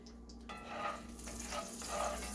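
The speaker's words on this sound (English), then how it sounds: "It's starting to sizzle" Soft sizzling of steak frying in a hot pan for Steak Diane, a gentle crackle that swells slightly over a faint steady hum.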